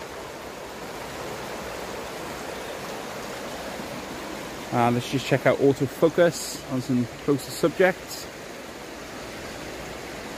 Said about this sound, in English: Now, even with the river running in the background,